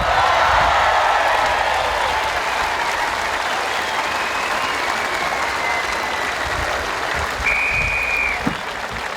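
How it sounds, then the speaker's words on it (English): Steady crowd applause at a championship contest, a continuous wash of clapping mixed with cheering and whistles, holding at an even level throughout with a brief sharper sound near the end. "What about a big round of applause?"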